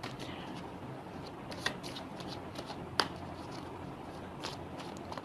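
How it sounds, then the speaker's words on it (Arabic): Tarot cards being shuffled and riffled by hand in a close, steady papery rustle with a couple of sharper snaps. "انا عمال افرط لكم الورق قوي عشان تطلع حاجه حلوه كده"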